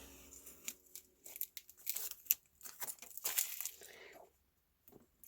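Masking tape is peeled and torn from a sketchbook page, giving close, quiet bursts of crinkling and ripping paper in uneven spurts, then falling silent near the end.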